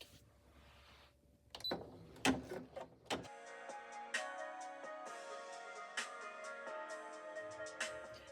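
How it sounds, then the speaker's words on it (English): A home embroidery machine sewing a satin border on a bag tag, starting up with a few clunks, then a steady mechanical whir with regular ticking stitch beats, close and alone. "Now it's going to stitch the satin border for the inner part of the bag tag"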